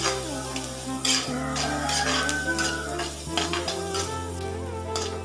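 Garlic, ginger and green chillies sautéing in a pan for tomato chutney, a steady close sizzle with a spoon scraping and stirring in repeated strokes, no talking.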